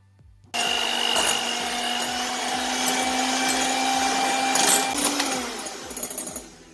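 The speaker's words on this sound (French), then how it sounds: "on va s'occuper maintenant des blancs d'œufs qu'on va monter en neige" An electric mixer whisking egg whites into stiff peaks: a loud, steady motor whine that starts abruptly, holds for several seconds with a rattling beater texture, then dips in pitch and wavers near the end.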